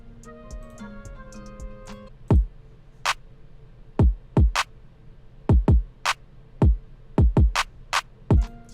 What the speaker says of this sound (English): and then for the drums, the drum pattern sounds like this.